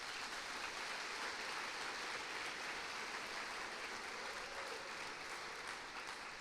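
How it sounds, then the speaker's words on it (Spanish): A church congregation bursts into sustained applause during an evening youth service, steady and dense clapping from a full room that holds level throughout and fades slightly at the end. "Les damos un aplauso a nuestros jóvenes."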